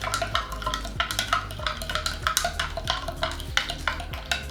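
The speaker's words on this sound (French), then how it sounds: "Moi, je mélange" A bouncy-ball mixture is stirred in a container with rapid, rhythmic scraping and clicking strokes, loud and close. The beats repeat steadily with no talking.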